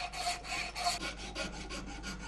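A hand saw cuts the wooden neck of a baroque violin in a luthier's workshop, close, rhythmic back-and-forth rasping strokes, about a dozen in a steady even pace.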